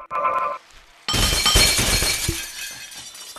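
Glass breaking and shattering in the Happy Wheels video game: a brief tonal chime, a short pause, then a loud burst of crashing, scattering shards that slowly trails off, with no talk.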